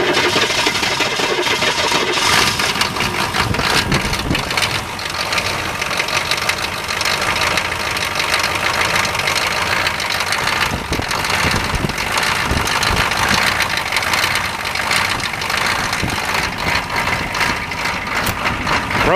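A cold K5 engine, its fuel frozen, cranks and runs steadily with a loud, continuous mechanical rumble and knocking texture throughout, close by, with no speech.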